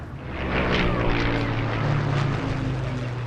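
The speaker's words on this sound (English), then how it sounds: "As the planes continue to wow the crowds in Lowestoft" Display planes flying over the Lowestoft air show on the Suffolk coast, a steady loud propeller-engine drone that swells in and holds throughout, with no talk.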